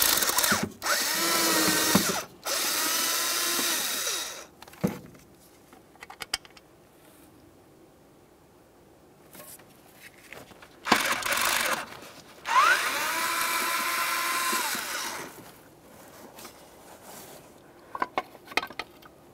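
Cordless driver whirring in several bursts, close and loud, backing out T15 Torx screws from the distributor cap on a 1999-2006 Chevrolet Silverado 1500 4.3L, with quiet handling pauses between runs.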